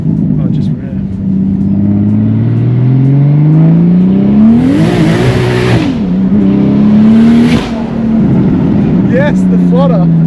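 Single-turbo BMW F80 M3 engine with a roughly 700 hp build, rising and falling through loud revs with a sharp turbo flutter between pulls; someone talks over the engine near the end.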